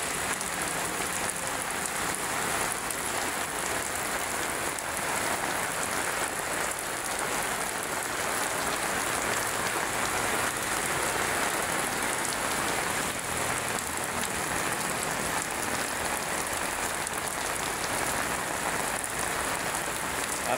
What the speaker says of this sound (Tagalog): Ayan, narinig niyo naman, umulan, diba?